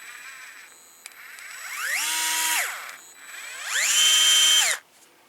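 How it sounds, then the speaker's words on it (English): A DeWalt cordless screwdriver whirs up in two separate bursts, its electric motor rising in pitch, holding a steady whine, then winding down, loud and close with nothing else heard. "I get that Dewalt cordless screwdriver. Actually works really nice though."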